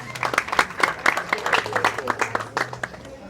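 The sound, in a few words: audience applause at law society dinner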